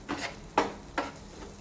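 A spoon scrapes and stirs vegetables being sautéed on a tawa for paneer bhurji, three short soft strokes spaced about half a second apart over a faint sizzle, close and quiet.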